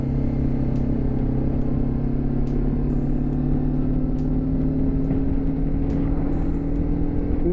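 A BMW G310 GS BS6 motorcycle cruising on a highway, a steady close engine drone with a constant hum and wind rush, holding even without clear revving throughout.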